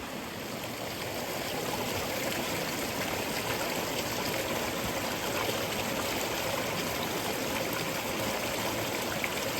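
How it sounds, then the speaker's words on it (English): A mountain stream on the West Highland Way in winter rushes in a dense, even, continuous flow, moderately close, with no voices. "Oh, it's actually a bit more than a little stream."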